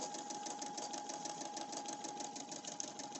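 A sewing machine runs steadily, free-motion stitching a squiggly pattern across the fabric of a tote bag panel, a fast even whirring hum with rhythmic needle clatter, close and continuous with no pauses.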